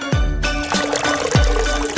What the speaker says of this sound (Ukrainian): Перекладаємо виноград на половину в келих. Ось так. Решту половини заповнюємо льодом. Потім заливаємо водою.